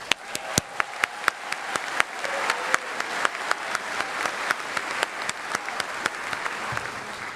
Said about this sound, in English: can I get a round of applause for these graduates